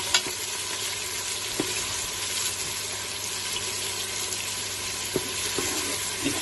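Onions and whole spices fry in a pan for a fish gravy, giving a steady close sizzle broken by a few sharp clinks of stirring.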